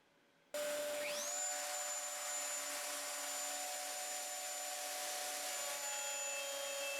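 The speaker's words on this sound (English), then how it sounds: "Wow, that shop vac is doing an amazing" Shop vacuum switching on during router table work with a Kreg baseplate and CMT router lift, rising into a steady loud whine with a high tonal hum that holds unbroken throughout.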